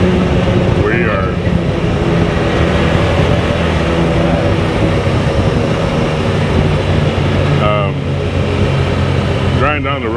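A 2021 Can-Am off-road vehicle driving gives a steady, loud, close engine drone throughout, with voices talking over it.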